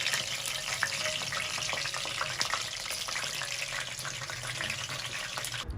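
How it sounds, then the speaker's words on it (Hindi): Pieces of chicken tempura deep frying in hot oil make a dense, crackling sizzle with frequent sharp pops, close up and steady throughout, with no voices. "अब ये देखिए फ्राई हो चुके हैं, अब इनको हम निकाल लेंगे"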